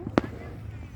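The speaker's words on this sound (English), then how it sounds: "No, there's like giant fireworks." One firework bursts outdoors, a single brief sharp pop at a distance against a low rumbling background.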